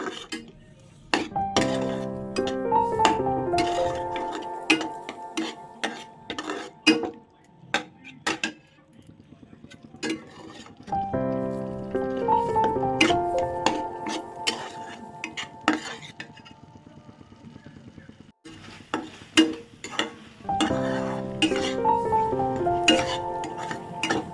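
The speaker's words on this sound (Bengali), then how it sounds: "এরপর এই মশলাটাকে আমি কষিয়ে নেব ভালোভাবে কষিয়ে নেব" A spatula stirs and fries a masala paste of poppy seed, mustard and green chilli in a pan, with repeated metallic scrapes and clinks at close range over steady background music.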